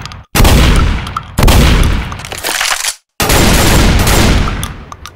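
A full-auto shotgun in Left 4 Dead 2 fires in three loud, dense bursts of blasts, split by brief silent gaps and ringing with heavy close booms.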